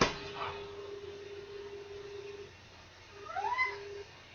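A house cat meows in a short rising, drawn-out call near the end, fairly faint against a steady low hum and background murmur.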